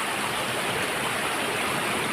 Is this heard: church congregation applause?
no